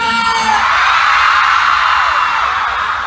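A huge concert crowd at a show in a plaza screams and yells in one continuous, loud, sustained roar.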